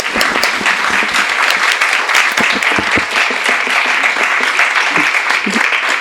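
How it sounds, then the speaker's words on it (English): Dense, sustained applause from an audience at a book reading, many hands clapping together at close range with a steady roar of overlapping claps and no gaps for the whole stretch. "Let's please give her a warm round of applause."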